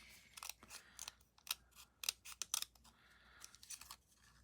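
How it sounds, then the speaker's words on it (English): Several quick snips of small, oddly shaped scissors cutting paper scraps on a tiny cutting surface, crisp and close, coming in irregular clusters with short pauses between the cuts. "Oh, these weird scissors and a teeny tiny little cutting surface."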